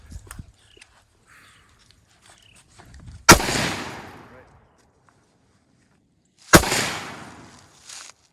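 Two loud, sharp gunshots ring out several seconds apart during a close-quarters marksmanship qualification drill, each with a long echoing decay across open terrain, with faint rustling and movement between them.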